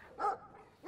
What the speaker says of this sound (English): this dog is, like, annoying.